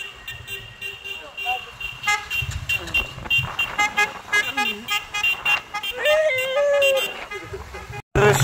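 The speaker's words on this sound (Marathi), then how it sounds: "हॉर्न वाजव हॉर्न." Vehicle horns toot again and again in short, uneven blasts during a night trip toward Baramati and Morgaon, over steady traffic rumble while people talk loudly nearby.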